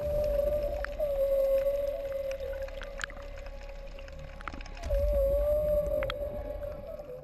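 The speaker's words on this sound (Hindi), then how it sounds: "ये हम्पबैक व्हेल थी जो अपने बच्चे के साथ समुद्र के चक्कर लगा रही थी।" A humpback whale swimming with its calf in the Arabian Sea gives long, sustained tonal moans that waver slightly in pitch, heard underwater over a low rumbling background and scattered clicks.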